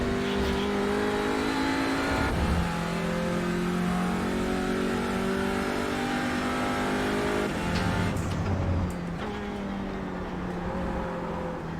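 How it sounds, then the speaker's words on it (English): Race car engine roaring steadily at high revs in the iRacing sim, an Audi or Porsche, with tyres skidding and squealing as the car slides across the track, loud and continuous with no talking. "It's so weird the way the car just sort of skids across the road."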